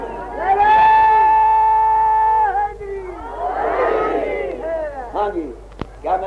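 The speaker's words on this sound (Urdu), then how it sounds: "سارے مل کے ایک دفعہ نعرہ علی بلند کرو اور صلوات پڑھ دو بس" A large religious gathering shouts the slogan Nara-e-Ali in unison, a sustained chorus of many voices rising together, followed by swelling crowd cheers and scattered shouts.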